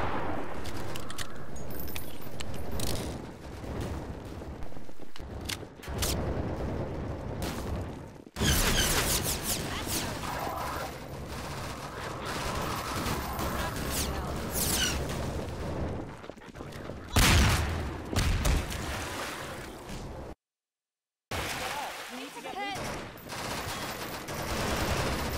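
Gunfire in the dark Half-Life 2: Episode 2 mod Triage, with rapid bursts of automatic fire and loud single shots clustered in intense stretches, broken by brief pauses and one moment of total silence.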